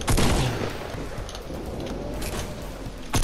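Rapid volley of gunfire in Fortnite Battle Royale, several loud close shots bursting at the start and end with a dense, noisy battle din between, no talking.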